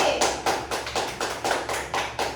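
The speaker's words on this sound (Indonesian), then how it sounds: "Tepuk tangan untuk Ari." A classroom of students claps for a classmate, quick rhythmic bursts of hands, roughly ten or so clearly separated beats, fairly close and even.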